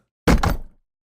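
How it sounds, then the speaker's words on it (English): A vacuum cleaner recorded as raw material for creature-stomp effects makes a single loud, close, blunt burst with a strong low end that fades over roughly half a second, heard alone. "vacuum cleaner,"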